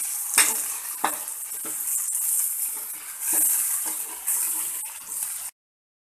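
Chunks of potato fry in hot oil with onions, a steady close sizzle broken by stirring scrapes and clinks of the spoon, made while cooking biryani, then a sudden cut to silence.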